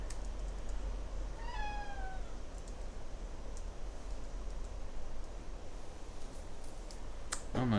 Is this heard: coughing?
no